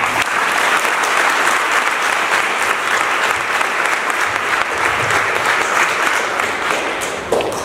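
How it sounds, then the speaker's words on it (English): Sustained, loud applause from a crowd at a charity Christmas breakfast, dense, steady clapping that fills the room for the whole stretch, fading only slightly toward the end. "can we clap it up for them?"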